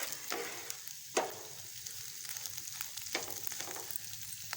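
Panjiri frying in a pan, a steady close sizzle broken by a few sharp scraping stirs of the spoon, with no voices.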